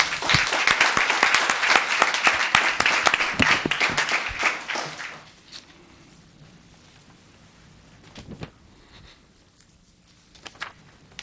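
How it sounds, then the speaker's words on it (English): Applause fills a town council meeting in Los Gatos, dense and loud clapping for about five seconds, then tapering off into a quiet room with scattered faint claps and rustling. "Let's give another round of applause for Will Harland."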